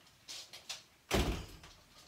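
A door shuts with a single solid thud, preceded by a few faint light knocks or footsteps; the slam is loud and close, then fades quickly.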